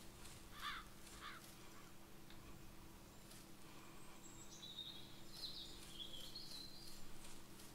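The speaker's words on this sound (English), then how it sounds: "The birds are tweeting, so I'm assuming it's still daytime." Birds in a Bigfoot video game give a few faint crow-like caws early on, then thin high chirps near the end, over a quiet, steady low hum.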